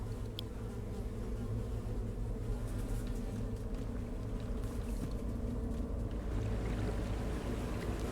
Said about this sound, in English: Despite the buzzing flies, you hear the faintest sound of rushing water that seems to be coming from the farthest hole.